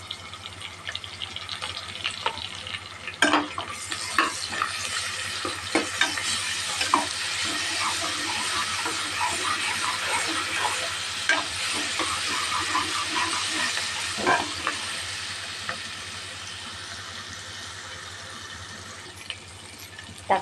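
Ginger garlic paste frying in a pan for a broad bean (avarakkai) gravy, a steady close sizzle with scattered stirring clicks and scrapes running throughout, no voices.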